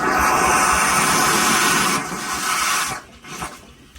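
Water runs into the steam-powered boiler of a historic flour mill at Old Mill State Park, a loud broadband rushing hiss that holds steady, then drops in level and sputters irregularly toward the end.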